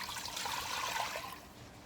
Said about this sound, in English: you pour, for me it's the bottled water, into the pot that has the label bottled water